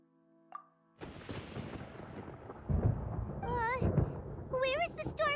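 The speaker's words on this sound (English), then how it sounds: "Paimon hears thunder!" Thunder in the Genshin Impact video game: a deep rumble swells and rolls over several seconds with heavy booming surges, while a character's high animated voice speaks over the latter part.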